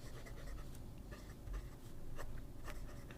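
A Panda Dorf Bamboo Forest fountain pen with a Schmidt nib scratches softly across paper in close, continuous strokes with slight feedback, quiet and alone.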